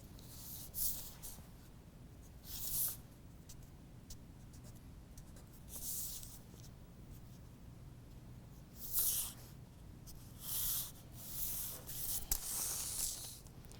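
Pencil scratching along a sewing pattern to mark and extend stitching lines into the seam allowances, heard as several short, faint scribbling strokes spaced apart, close and quiet.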